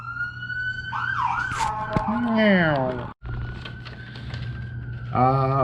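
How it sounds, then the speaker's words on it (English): A wailing emergency siren rises and falls close by, cut off briefly midway before resuming with a steady tone, with engine hum underneath. "Here goes our obligatory siren."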